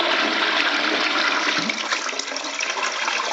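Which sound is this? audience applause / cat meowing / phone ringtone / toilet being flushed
toilet being flushed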